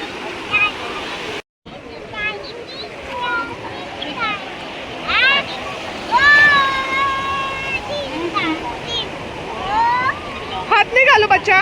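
Sea waves wash steadily onto a beach at sunset at Delta Point, a continuous surf hiss running under adults and a small child chattering close by.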